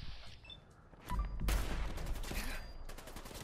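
Gunfire in the video game Fallout 4, a dense burst of rapid shots that swells loud after a quieter opening and keeps crackling steadily to the end, with no talk over it.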